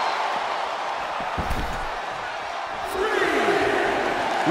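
Video-game wrestling arena crowd during a singles tournament match, a steady roar of cheering and whooping that swells louder near the end, with a few slam thuds and commentary over it.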